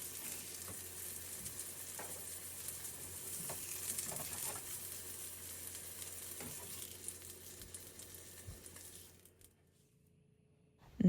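Vegan burger patties fry in a pan with a steady, close sizzle and crackle that runs for several seconds, then cuts off abruptly to near silence at the end.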